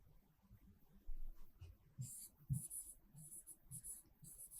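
Marker or chalk writing on a classroom board during a Grade 6 science lesson on heat and wax, heard as close scratchy strokes in uneven bursts over a faint hum, with no talking.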